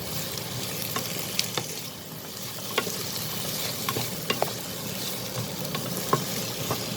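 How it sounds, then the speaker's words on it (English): Onions and potatoes sizzle and crackle steadily in a hot pan, with occasional scraping and clicking strokes of a utensil stirring through them. "We'll slightly fry this for a minute."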